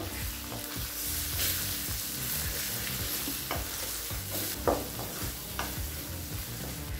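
Two eggs being stirred and scrambled in a hot frying pan for carrot egg rice, with a steady sizzle and continuous scraping of the spatula against the pan, close and fairly loud throughout with no talking.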